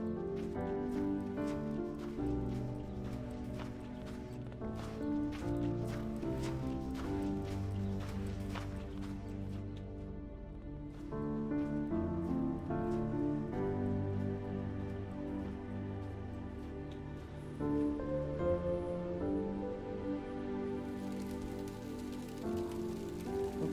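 Hail pattering steadily on a cycling climb up toward the Stelvio Pass in the Alps after overnight snow, a continuous dense rattle of hits lasting throughout with no talk over it.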